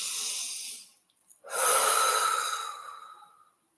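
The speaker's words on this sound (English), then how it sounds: "So take a deep breath." Slow deep breath, a long airy inhale, a brief pause, then a longer, fuller exhale, close and intimate with nothing else around it.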